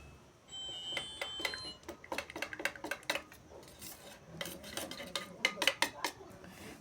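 A utensil stirs colored pitha batter in a bowl, producing quick, irregular clinks and scrapes against the bowl that come in close, uneven bursts with short pauses between them.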